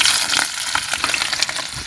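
Chopped onions and chilies frying in a pan for a goat brain fry, a steady bright sizzle with small crackles and pops, close and fairly loud, with no voices.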